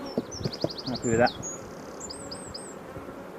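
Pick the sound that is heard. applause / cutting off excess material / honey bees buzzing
honey bees buzzing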